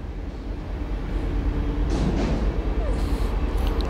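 An IC 2032 intercity train pulls into Braunschweig Hauptbahnhof at night, a steady low rumble of wheels and rolling stock that swells slightly as it nears, with faint squeal and distant station murmur.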